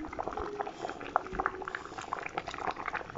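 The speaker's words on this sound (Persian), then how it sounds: "خب میبینید که مربا جوش آمده،" Carrot jam bubbles at a steady simmer in a pot, with irregular pops and blips close by and no voices.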